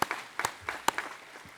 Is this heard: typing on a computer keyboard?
no